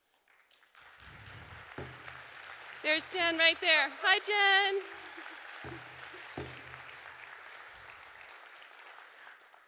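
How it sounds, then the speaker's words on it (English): A round of applause from an opening-ceremony audience swells under a speaker's amplified voice, a broad wash of clapping that carries on as she talks and calls out greetings. "could everyone please give them a round of applause?"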